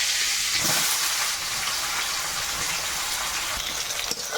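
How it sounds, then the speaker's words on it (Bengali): Chopped onion frying in oil with cumin, bay leaf and whole garam masala for a katla fish curry, a loud continuous hissing sizzle that stays steady and close throughout. "পেঁয়াজটা হালকা ভেজে নিলাম"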